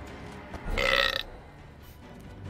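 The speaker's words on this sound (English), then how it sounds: "The hellhole rewarded the sacrifice of a live hero with a respectable burp." A hellhole in the video game Dungeons 3 lets out a single loud, throaty burp that lasts about half a second against a quiet game background.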